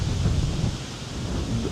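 Strong wind buffeting the microphone outdoors near a waterfall in Bečići, breaking an umbrella; a steady loud low rumble of gusts throughout, with no speech.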